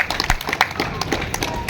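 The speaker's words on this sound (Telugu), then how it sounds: "Okay, clap." At a yoga session, a group claps together in several quick rounds of sharp, close claps in a loose rhythm.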